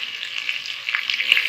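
Chicken pieces fry in a pan with sugar being added, giving a steady close sizzle with crackling bursts that swell slightly toward the end, with no talking.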